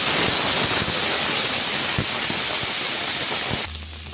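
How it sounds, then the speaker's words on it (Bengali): Water pours into a cooking pot of rice, fried lentils and vegetables being made into boiled rice, a steady close rushing splash for about three and a half seconds that stops abruptly. "এবারে জল দিয়ে দিচ্ছি"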